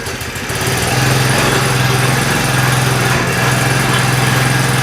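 A 12 horsepower diesel mini power tiller engine catches on a pull start and settles into a loud, steady, close chugging drone that runs without pause.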